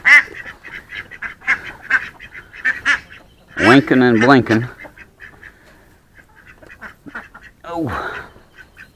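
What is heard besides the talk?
duck quacking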